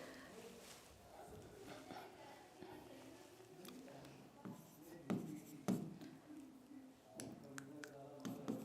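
Marker or chalk writing on a board during a Sanskrit grammar lesson: faint scratching and sharp tapping strokes in irregular bursts, close by, with a soft voice now and then underneath.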